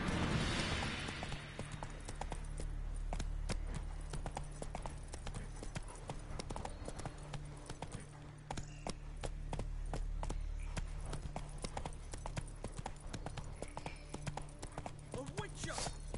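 Roach the horse gallops in The Witcher 3, a steady rapid clip-clop of hooves that runs throughout under a low ambient rumble, with a voice briefly heard near the start.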